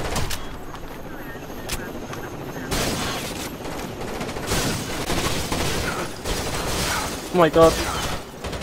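Bursts of gunfire in Rainbow Six Vegas 2 co-op play at a convention centre, rapid and loud. Players talk and exclaim over the shots, with a sharper cluster near the end.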